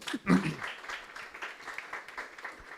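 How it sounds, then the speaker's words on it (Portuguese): Congregation applause at a church missions conference, a brief burst of a voice followed by scattered, fairly soft clapping from the crowd that continues steadily at a distance. "Palmas aí, velho."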